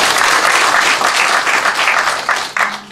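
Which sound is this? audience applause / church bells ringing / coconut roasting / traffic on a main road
audience applause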